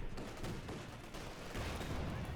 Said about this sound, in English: There's a flak panzer tears into them.